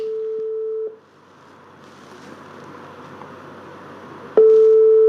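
A phone call waits to be picked up, with a steady electronic tone sounding, stopping for several seconds over faint background noise, then resuming loud and close, with no talk.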